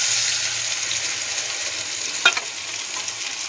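Milk mixed with turmeric, salt and sugar hits a hot pan and sizzles steadily, a soft continuous hiss with a brief sharper crackle partway through, close and alone without talk.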